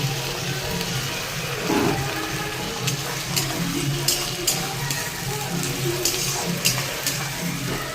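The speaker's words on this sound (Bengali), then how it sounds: "পেঁয়াজগুলো ভেজে নিচ্ছি" Onions fry in a pan while mutton kosha is prepared. A steady close sizzle runs throughout, broken by scraping and metallic clinks of stirring, and no voices are heard.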